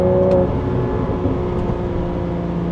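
A Porsche engine hums steadily in first gear from inside the car, a low continuous drone with only slight rises in revs and no sharp roar.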